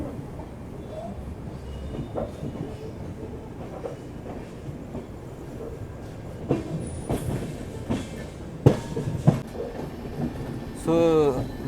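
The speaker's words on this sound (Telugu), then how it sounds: "సో గోదావరి రైల్కమ్ బ్రిడ్జ్కి అయితే టర్న్ అవుతుంది మన ట్రైన్" Gowthami SF Express passenger train rolling out of Rajahmundry toward the Godavari rail-cum-road bridge, a steady low rumble of wheels and carriages with scattered clanks and a brief squeal near the end, under intermittent voices.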